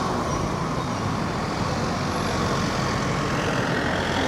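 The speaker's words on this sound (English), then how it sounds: "traffic's going on Sunday" Sunday road traffic runs steadily in a town recovering from a 7.8 earthquake in the Philippines, a continuous broadband rumble of passing cars, trucks and buses with no talk on top.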